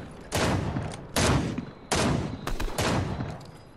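Bursts of rapid Fortnite gunfire, four loud volleys each lasting under a second, separated by short pauses, with no talking.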